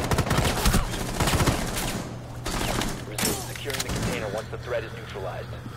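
Rapid bursts of gunfire crack through a Rainbow Six Siege match, loud and close, with clustered shots over the first seconds and more scattered fire later, mixed with voices and a steady low hum.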